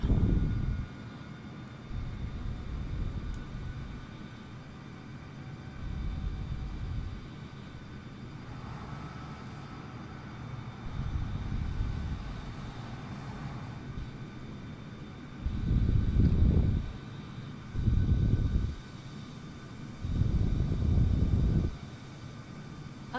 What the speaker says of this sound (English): That guy behind us is taxiing towards us